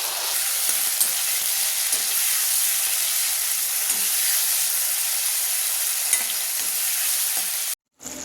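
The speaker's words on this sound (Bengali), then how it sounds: "এই দিয়ে দিলাম আদা আর টমেটোর পেস্ট।" Ginger and tomato paste frying with tempered spices in a pan give a loud, steady sizzle and hiss throughout, cutting out briefly near the end.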